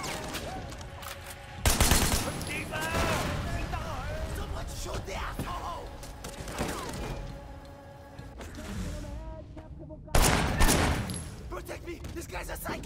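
Gunfire in the video game Sleeping Dogs, with heavy bursts of shots around the two- and ten-second marks amid a chaotic, noisy firefight, with loud voices shouting over it.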